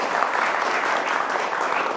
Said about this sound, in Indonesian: Kami hadirin tepuk tangannya buat Ustadz Dery Sulaiman.